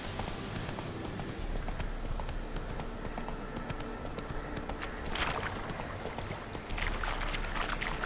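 Horse hooves clip-clop steadily on the ground in The Witcher 3: Wild Hunt on Xbox One, a continuous rhythmic trot set against a rushing ambient background that swells briefly at times.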